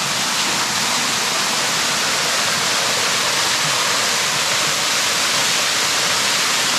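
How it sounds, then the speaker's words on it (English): A steady, loud roar of a waterfall in the Hunter Region of New South Wales fills the whole stretch, dense and unbroken, with no voices. "That's an interesting waterfall up here."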